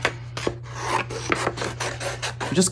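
Foiled waterslide decal paper is trimmed along its edges, producing a series of quick, rhythmic rasping scrapes and cuts, close and fairly faint over a steady low hum.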